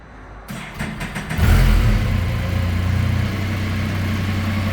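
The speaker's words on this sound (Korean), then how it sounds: "시동을 한번 걸어 보겠습니다." A Can-Am Spyder RT Limited, a 2019 three-wheeler, cranks over briefly, catches with a loud burst and settles into a steady, close rumbling idle.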